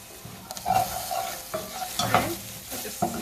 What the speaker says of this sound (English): Stir this a bit